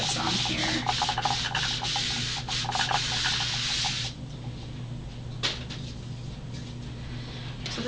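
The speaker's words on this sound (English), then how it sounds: "I'm going to clean off some of that excess paint that's on here." Wet wipe rubbing excess paint off a papercraft cover, a close, steady scrubbing and wiping that goes on continuously, then turns quieter with a few brief swipes.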